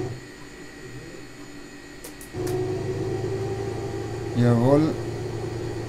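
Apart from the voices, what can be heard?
Beech Baron 58 engine starting in FSX flight simulator video game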